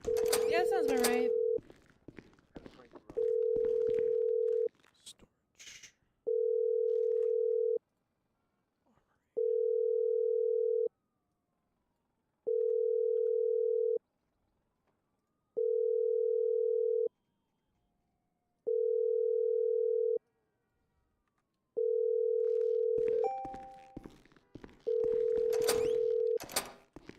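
Unanswered phone call in a role-play video game, a steady ringback tone pulsing in regular beeps about every three seconds, with brief talk at the start and end.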